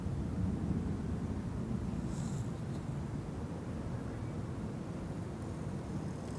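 An EasyJet airliner taking off from Schiphol's Polderbaan runway, a distant, steady, broadband jet roar with a wind-like wash that holds at even loudness throughout.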